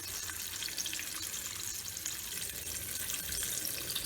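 Pieces of katla fish are rinsed in water, making a continuous, soft splashing wash that is fairly quiet and close, with no voices.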